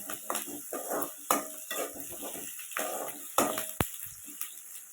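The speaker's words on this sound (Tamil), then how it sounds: "அந்த பூண்டு போடுறேன் பூண்டு போட்டுட்டு நல்லா வதக்கிடணும்" Peeled garlic sautés in a pan while a spoon scrapes and clatters against it, a fish curry base in progress; light sizzle sits beneath irregular metallic stirring knocks and one sharp clank near the end.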